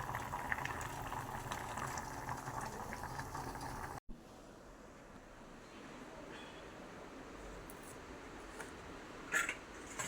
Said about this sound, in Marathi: हे बघा मटण, आणि हे शिजत आहे